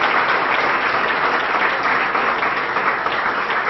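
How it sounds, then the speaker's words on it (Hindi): Audience applause at a chartered accountancy study-tips talk, steady loud clapping from a large crowd filling the whole stretch without pause. "इन सभी का एक बार जोरदार तालियां बजा के आप अभिनंदन करोगे।"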